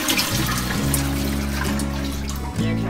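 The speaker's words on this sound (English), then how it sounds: "you can pour the water into the tank and use that water instead" Bath water pours steadily into a toilet tank, a continuous full watery rush with a brief break near the end before the flow resumes, close and loud with no talking.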